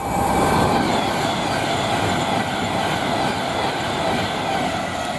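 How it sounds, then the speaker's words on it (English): Train 39009, running from Liverpool Lime Street to London Euston, roars past at Nuneaton on the West Coast Main Line in a loud, continuous rumble of wheels and rails, close by and steady throughout. "There we have 39009 working from Liverpool Lime Street to London Euston"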